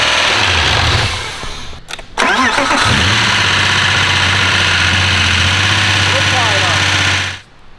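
Swapped engine in a BMW E36 wagon cranking and catching on its first start, knocking badly, then settling into a loud, rough idle with a low rhythmic pulse before cutting off.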